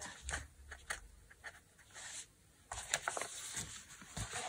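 Scissors cutting through envelope paper for a junk journal cover, a few soft, quiet snips and rustles close by, with no talking.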